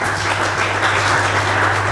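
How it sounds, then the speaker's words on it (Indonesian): Church congregation claps during a sermon, a brief, steady burst of crowd applause with a low constant hum underneath. "Kasih tepuk tangan untuk Tuhan."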